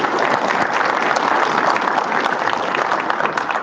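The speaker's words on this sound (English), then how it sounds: "Let's have another round of applause for Devin." Steady, dense applause from a conference audience at a DevOps Days tech event in Raleigh, clapping loudly and evenly throughout with no talking over it.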